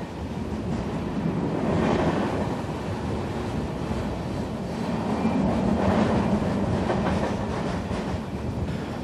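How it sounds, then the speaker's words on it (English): A heavy diesel locomotive train running on the tracks, a steady, dense rumbling roar with rolling wheel noise that swells slightly and holds without a break. "Now, a new fleet of super diesels has taken to the tracks that is stronger and more powerful than ever before."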